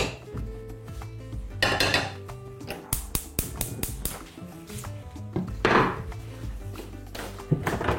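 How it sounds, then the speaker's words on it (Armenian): A metal cooking pot being handled and set down for boiling beef, with a series of sharp clanks, knocks and scrapes at irregular intervals, close and fairly loud, and no talking. "Գործ ենք դնում կաթսան"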